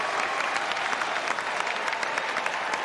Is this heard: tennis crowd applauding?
yes